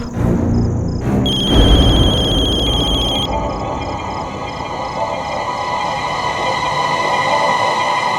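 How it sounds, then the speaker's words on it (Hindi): A telephone rings loudly with a bright electronic ring pattern for a few seconds, then stops, leaving a steady rumbling background that resembles a passing train. "इतना टाइम क्यों लगा दिया फोन उठाने में?"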